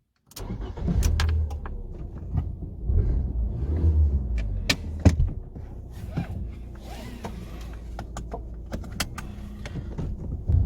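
Steady low car rumble with engine hum as a Fiat Panda 1.2 Pop running on LPG drives, scattered clicks and knocks from inside the cabin, no talking.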